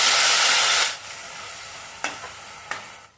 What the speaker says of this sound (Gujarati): હવે શેકેલા ટામેટાને એડ કરી દઈએ.